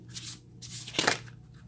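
Tarot cards are shuffled in short papery bursts, close and soft, with a brief louder riffle near the middle of the moment.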